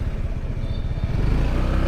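A motorcycle engine rumbles steadily nearby in a parking area in Tagaytay, its low, continuous drone swelling slightly louder toward the end, with no talking.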